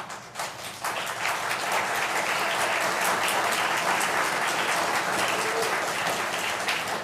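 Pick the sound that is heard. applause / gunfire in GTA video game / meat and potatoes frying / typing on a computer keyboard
applause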